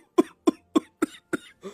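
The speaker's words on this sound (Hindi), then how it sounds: "तभी कुलदीप जोर जोर से खांसने लगता है।" Loud, close coughing in a cartoon Hindi story: five or six sharp, evenly spaced coughs in quick succession, with a softer final cough and no talk.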